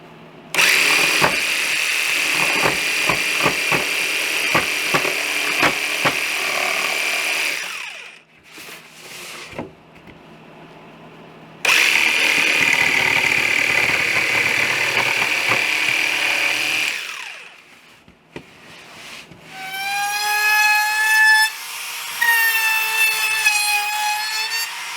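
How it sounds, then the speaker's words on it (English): A jigsaw cuts through wood for a shelf build in two long loud bursts of buzzing sawing, separated by a short quieter pause, with a rising whining tone near the end. "I'm just using a jigsaw to cut that out"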